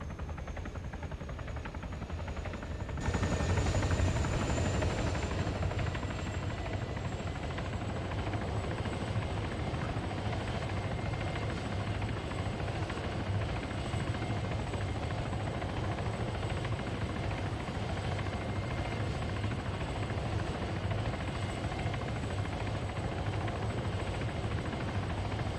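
An Mi-8 helicopter in Arma 3 roars steadily, with a dense low rotor thrum and a high turbine whine that swells after a brief quieter opening, then holds constant and loud.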